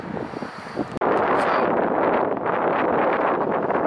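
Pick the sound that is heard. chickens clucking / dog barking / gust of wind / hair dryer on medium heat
gust of wind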